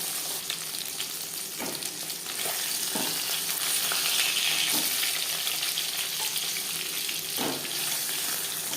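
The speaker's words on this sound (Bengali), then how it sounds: "মাছ ভাজা হয়ে গেছে" Pieces of silver carp sizzle steadily in hot oil in a frying pan, with a few soft knocks and scrapes of stirring over the continuous hiss.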